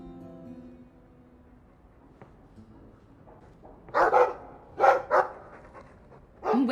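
A dog barks in the Dragon Age II video game, a few loud, close woofs in quick pairs following a faint, low hum.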